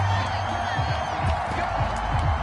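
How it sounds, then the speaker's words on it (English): Stadium crowd noise in an American football video game, a steady wash of shouting and cheering that stays loud and constant, with a low voice talking underneath. "Plenty of shouts from this crowd as they watch the replay."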